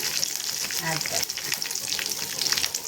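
Curry leaves and asafoetida hit hot oil in a kadai already holding mustard seeds, urad dal and dried red chillies, giving a loud, steady crackling sizzle with popping throughout for a black chickpea sundal tempering.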